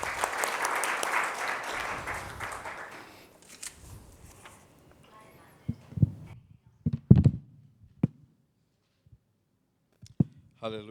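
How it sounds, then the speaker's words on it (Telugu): An audience at a Telugu church service applauds to welcome a pastor. The clapping is dense and strong at first, then thins to a few scattered claps, with a quiet gap in the middle. "పాస్టర్ గారిని చప్పట్లతో ఆహ్వానించుకుందాం."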